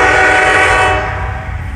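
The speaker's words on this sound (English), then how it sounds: "There's a train going by." A train rolls past nearby, a loud steady rumble with a sustained horn-like tone that fades slightly toward the end, no voices over it.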